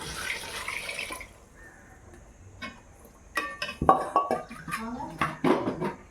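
Rice-washing water splashes and pours into a pot among clinking kitchen sounds, with a soft trickle early on and louder sloshing toward the end.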